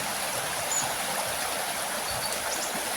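A stream rushes over the stones of a rocky river, a steady, fairly close hiss of flowing water with no voices.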